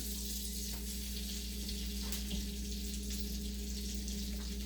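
An egg-washed slice of giant puffball mushroom fries quietly in a pan, a low steady sizzle under a constant background hum, with a few faint clicks and clatters.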